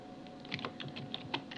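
Code being typed on a computer keyboard for a text-to-speech program in Visual Basic 2010, heard as faint scattered key taps against a low background hum.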